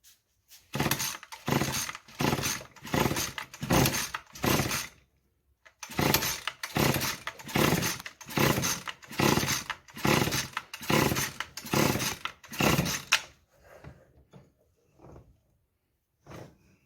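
A Hitachi CG22EAD string trimmer, just after carburetor repair, is pull-started: two fast runs of rhythmic recoil-cord rasps with a brief pause between, then a few fainter, scattered pulls as the engine fails to catch.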